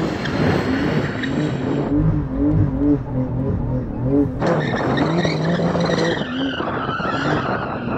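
A Porsche 911 fishtails with its tyres squealing and skidding in wavering bursts over a loud, revving engine that cuts out briefly and surges back, close by.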